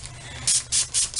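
A spray bottle spritzes hair until it is damp while a retro rockabilly hairstyle is set. Three or four quick, close hissing bursts come in a steady rhythm, with no talking.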